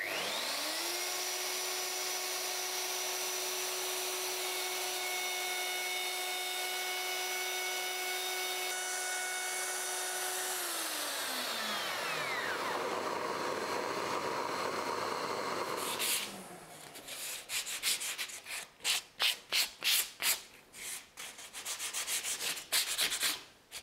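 A wood router fitted with a dovetail bit cuts a large groove, giving a loud, steady high whine that winds down after about twelve seconds, followed by scraping and handling noises and a rapid series of loud bursts near the end.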